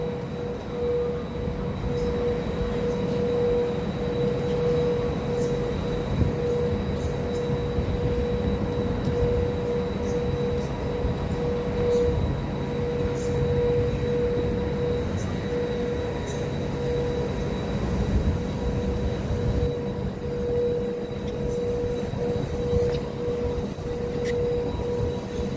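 Steady rumble of a moving train heard from inside the carriage, with a constant low roar, a faint sustained tone and light rattles lasting throughout, close and even in loudness.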